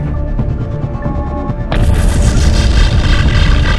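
Science fiction weapon blasts boom out loudly, starting as a rumbling barrage and swelling into a harsher, denser burst of roaring fire partway through.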